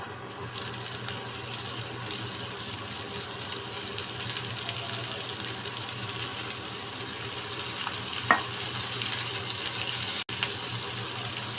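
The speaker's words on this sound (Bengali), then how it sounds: "এবার এর মধ্যে আমি আগের থেকে কুচিয়ে রাখা লাউয়ের খোসাগুলোকে দিয়ে দেবো" Chopped bottle gourd peels frying with lightly toasted nigella seeds in a pan, giving a steady broad hiss and crackle throughout and one sharp clink near the end.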